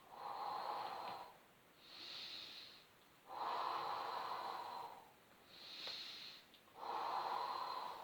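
Slow, deliberate Pilates breathing: alternating audible inhales and long, forceful exhales through the mouth in a steady rhythm, close and quiet, about five breaths with no talking.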